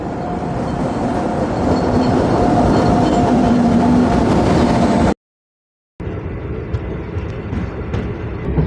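An express train pulls into Somanur junction in the rain, its loud rumble and rattle of wagons rolling close by, broken by a short silent gap before it resumes.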